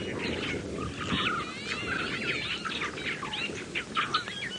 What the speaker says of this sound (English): Incredible funny noises from the starlings.